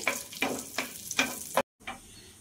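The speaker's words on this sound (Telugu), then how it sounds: "సిమ్లో పెట్టుకొని వేయించుకోండి, జీడిపప్పు తొందరగా వేగిపోతుంది." Cashews fry on low heat in a pan, with a soft sizzle broken by several quick stirring scrapes, faint and close, followed by a brief gap of silence.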